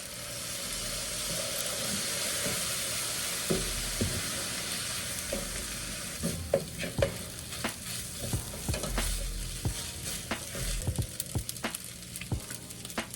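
Sizzling stir-fry in a pan on high heat as soy sauce goes into homemade hibachi, a steady hiss with clattering utensil scrapes and stirring knocks throughout, close and fairly loud, with no talking.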